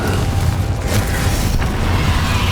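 Confringo blasting spell detonating in the Hogwarts Legacy video game, a loud, deep booming rumble with a crackling burst near the middle, heavy low-end filling the whole stretch without talk.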